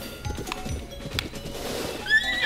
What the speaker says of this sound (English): Horses know how to jump themselves, it turns out.